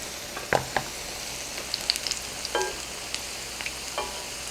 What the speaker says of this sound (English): So much fun to watch these fry up.